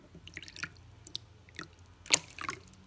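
Water drips and splashes faintly while a tarantula's water dish is filled, with a few soft, irregular drops and one slightly louder splash near the end of a quiet scene.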